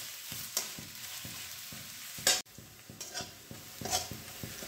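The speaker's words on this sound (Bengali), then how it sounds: "পেঁয়াজটা ভেজে নেব, খুব লাল করে ভাজবো না, কিন্তু একটু ব্রাউনিশ কালার যেন আসে।" Onions fry in a pan toward light brown, a soft continuous sizzle under rhythmic scraping strokes of a spatula, with one louder clatter midway.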